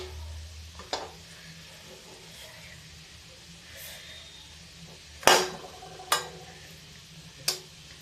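Laddu mixture cooks in a kadhai over a low flame with a soft, steady sizzle, broken by a few sharp clinks of a metal spoon scraping against the pan.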